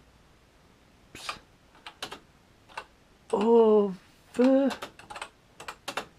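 Keys clacking on a BBC Micro Model B keyboard, a run of separate close taps in irregular rhythm, with a voice speaking briefly over the typing.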